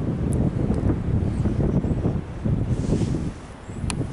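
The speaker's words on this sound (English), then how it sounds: "If the wind wasn't so much, it'll be even better." Strong wind buffets a high mountain peak in Virginia, a rough low rumble of gusts pounding the microphone, swelling and easing in waves, loud and close, with no voices.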